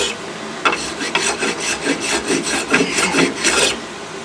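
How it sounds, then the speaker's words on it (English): A small finger plane shaves a wooden board for a homemade bird feeder, making a steady series of about nine close, raspy scraping strokes in an even back-and-forth rhythm, with no talking. "It's a lot easier planing it this direction."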